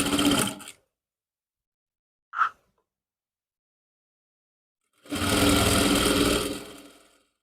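A sewing machine runs a top-stitch along the edge of a folded strip on a suit, in two bursts: a short run, then after a pause a longer steady whir, with a brief click in between.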